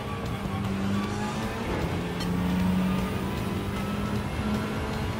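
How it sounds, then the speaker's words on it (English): An Aston Martin race car engine in Gran Turismo 7 drones steadily at moderate volume through a race, with a sustained engine tone rising slightly in pitch and faint tire noise, without talk. "That Aston Martin sounds like a beast."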